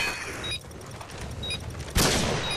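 Gunfire in Modern Warfare 2 on the Trailer Park map sounds as a dense rattle of shots, ending with one loud sharp burst close up.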